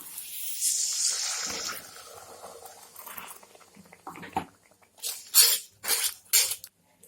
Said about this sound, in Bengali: আমি এখন মিক্সির বাটি দিয়ে একটু দিয়ে দিব জল